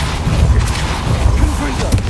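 Depulso spell cast in Hogwarts Legacy, a dull booming burst with some whooshing texture and brief tonal chirps, fairly close and moderately loud.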